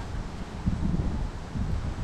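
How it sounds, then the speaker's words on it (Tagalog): Gusts of strong, cold wind in Baguio City buffet the microphone with a low, rumbling roar that rises and falls over two seconds, with no voices. "Lakas ng hangin."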